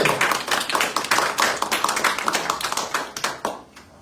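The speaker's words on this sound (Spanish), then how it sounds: "Dale gracias a Dios, dale palmas al que vive, porque Él es grande." Hands clapping during a church worship service, a quick, dense run of close claps carrying on steadily before trailing off at the end.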